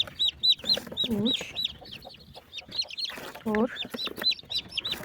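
A broody hen clucks in low bursts among a brood of newly hatched chicks, whose high peeping chirps repeat rapidly throughout, while a person counts aloud nearby.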